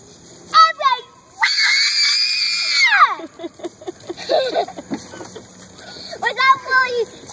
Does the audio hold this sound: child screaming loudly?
yes